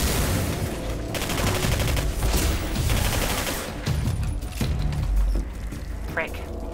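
Dense, sustained gunfire from the video game Singularity, bursts of rapid shots over a booming low rumble, loud throughout, with a brief mechanical clatter near the end.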